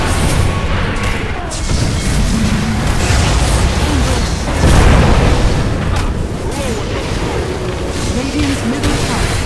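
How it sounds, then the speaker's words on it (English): Explosive booms and crashes from a Dota 2 match as the Radiant middle tower is destroyed, dense and steady throughout, with a louder burst near the middle and game voice lines over the top. "Radiant's middle tower is falling."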